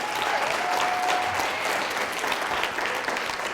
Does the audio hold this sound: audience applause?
yes